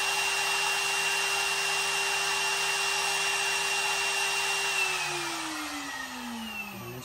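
A Millright Mega V XL CNC router spindle runs at high speed with a steady, close, high-pitched electric whine, then its pitch slides downward as it begins winding down near the end.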